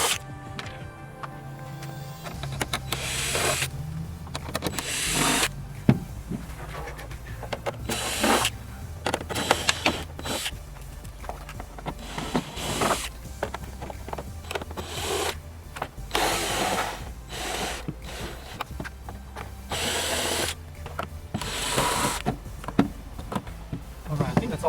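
A power drill backs screws out of an LED light fixture being taken apart. Repeated whirring bursts of the motor, some short and some longer, are separated by pauses and handling noise, close and fairly loud.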